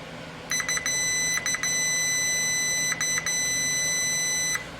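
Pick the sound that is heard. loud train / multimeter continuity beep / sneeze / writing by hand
multimeter continuity beep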